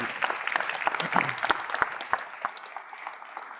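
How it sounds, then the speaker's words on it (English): An audience at a storytelling event breaks into applause, a warm mass of clapping with distinct individual claps near the front, gradually thinning toward the end. "I think you should applaud again."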